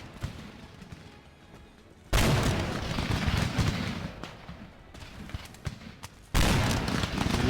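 Musket infantry in Empire Total War fire by rank, with scattered crackling shots followed by two loud, sudden rolling volleys that trail off into dense popping gunfire.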